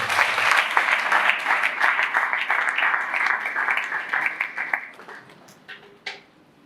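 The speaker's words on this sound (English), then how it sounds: "Let's give ourselves a hand of applause again." An audience gives a round of applause, a steady wash of many hands clapping that tapers off toward the end, leaving a single late clap.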